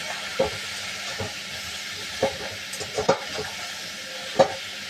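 Once the lid is lifted, vegetables in a pan are stirred over a soft steady sizzle, with several spaced scraping knocks of the utensil against the pan.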